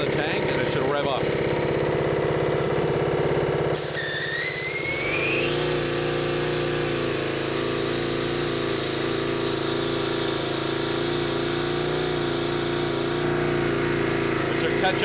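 A gas-powered Jenny air compressor driven by a Honda GX140 engine runs steadily and loudly, its tone rising as it revs up once air is drawn from the tank, with a faint hiss of escaping air.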